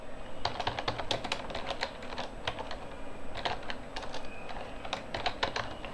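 Rapid, continuous typing of HTML code on a computer keyboard, crisp close-up keystrokes in a steady fast stream over faint background noise, with no one speaking.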